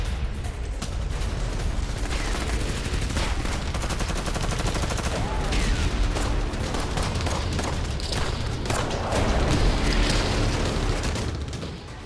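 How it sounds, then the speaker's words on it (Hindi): A Msta-S self-propelled gun firing in a war zone, heard as loud, dense gunfire and booming blasts that continue without a break, with no talk. "वॉरजोन में सेल्फ प्रोपेल्ड गन मिसाइल्स का भी एक्शन नजर आया"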